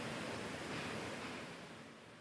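Water runs from a memorial drinking fountain outdoors as a continuous soft rushing wash, steady and fairly quiet, slowly fading slightly, with no voices.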